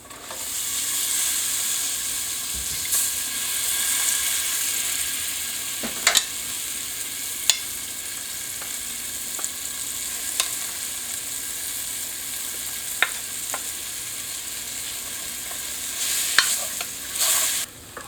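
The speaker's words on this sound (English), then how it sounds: "Next, I'm going to pour onions, flour, and the butter in." Onions, flour and butter sizzle steadily in a cast iron pot for corn soup, a constant frying hiss broken by scattered sharp clicks and pops and occasional scraping stirs.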